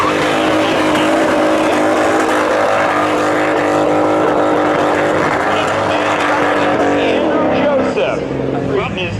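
Drag racing cars at Seekonk Speedway, including a 1989 Chevy Camaro, roar loudly and continuously with a strong engine tone. The pitch shifts and drops toward the end.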